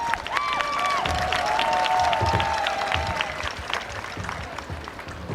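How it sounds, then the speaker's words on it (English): Audience at a high school football game gives a round of applause, a broad sustained crowd clapping with some cheering, heard at a distance over a radio broadcast. "Let's give them a round of applause."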